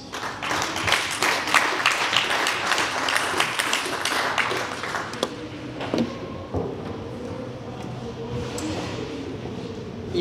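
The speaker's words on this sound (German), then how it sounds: "dein Applaus." Audience applause for a presenter at a hackathon stage, a dense burst of clapping for about five seconds that thins out into scattered claps and room noise.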